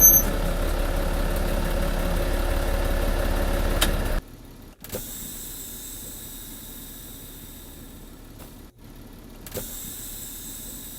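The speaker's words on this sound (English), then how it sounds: "I will move forward no more than 5 miles per hour and stop." A manual truck idles with a steady low engine rumble, then the sound cuts out briefly as it creeps forward at under five miles per hour and comes to a stop, with hissing air-brake noise in between.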